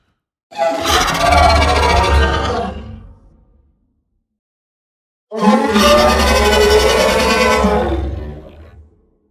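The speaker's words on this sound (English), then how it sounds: "this is how the screech part sounds on its own" Two long, harsh, roaring screeches from a designed Mosasaurus creature sound effect, each lasting a couple of seconds with silence between, loud and close with no background.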